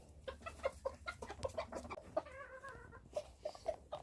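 Naked neck chickens cluck softly and repeatedly nearby, with short bursts of clucking over a quiet farmyard hum.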